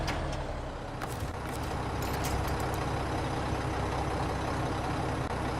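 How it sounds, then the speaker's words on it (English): Heavy truck in the SnowRunner game idling with a loud air hiss as the handbrake is set, a few short clicks and beeps near the start, then a steady engine rumble. "Go and do the handbrake."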